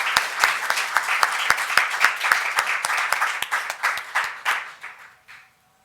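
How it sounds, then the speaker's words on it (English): A conference audience claps for practitioners after talks on peatland conservation and restoration. The applause is close and crisp, with distinct individual claps building into a steady round before thinning out and stopping. "Let's give a round of applause there."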